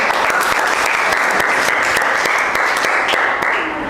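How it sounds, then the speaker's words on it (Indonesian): A classroom full of students applauds, a dense, steady roar of clapping hands that stays loud and even throughout and eases off only slightly at the end. "Tepuk tangan untuk anak."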